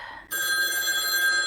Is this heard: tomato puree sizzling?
no